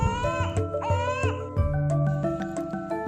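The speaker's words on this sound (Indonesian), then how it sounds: "Raja yang masih berada di sekitaran hutan mendengar suara tangisan bayi itu" An infant crying in a forest setting, with sustained harmonic wails broken into several pulsing bursts, loud and close, over a faint musical backdrop.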